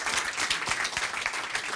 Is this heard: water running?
no